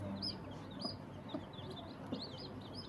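Native desi hens clucking in a rural poultry setting, with scattered soft clucks and a few high chirps spread over steady low background noise, faint and somewhat distant, with no talking.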